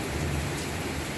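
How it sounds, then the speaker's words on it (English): Steady rain with a low thunder rumble throughout a thunderstorm in Boynton Beach, Florida, recorded from a screened-in area, a dense even wash with no distinct crack or single clap standing out. "thunder and lightning."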